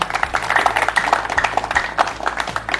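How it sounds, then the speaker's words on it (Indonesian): An audience claps for a head coach at an end-of-season event, a brisk run of overlapping handclaps at moderate loudness lasting a few seconds. "tepuk tangan untuk Coach Putu"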